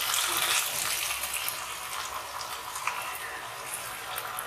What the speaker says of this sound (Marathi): त्यात आता मी पाणी घालणार आहे थोडंसं